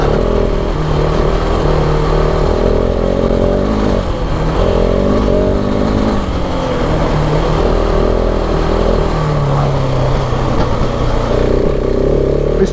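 A 2019 KTM 690 Enduro R single-cylinder engine revs loudly and continuously while ridden off-road on a dirt track, the pitch rising and falling with throttle changes for the whole stretch.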